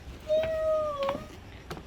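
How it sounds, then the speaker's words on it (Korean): A cat gives two short, thin meows in quick succession, faint and close, with a soft tap or two around them. "야옹"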